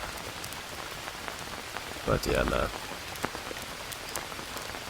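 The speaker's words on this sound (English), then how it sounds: "It's still raining like hell." Heavy rain falls in the jungle survival game Green Hell as a constant soft patter of drops, with scattered louder drips and a brief spoken phrase near the middle.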